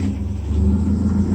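The engine of a 1937 Ford truck rat rod with welded-up custom headers runs at a steady idle, a loud, close, low rumble throughout the short stretch, with no talking.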